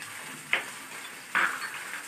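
Onions and other aromatics sautéing in a pan, a soft steady sizzle broken twice by brief stirring scrapes against the metal.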